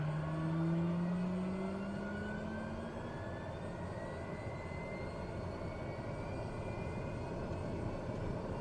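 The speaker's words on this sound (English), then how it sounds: "Wait for the engine to spool up a little bit." An aircraft engine in Flight Simulator 2020 spools up after start, its whine rising steadily in pitch over a constant loud droning roar, with no talking.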